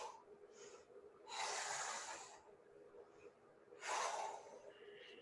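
Heavy, forceful breaths during an exercise workout: a couple of short sniffs, then two long, loud exhalations blown out, separated by quieter inhaling, close and unaccompanied by talk.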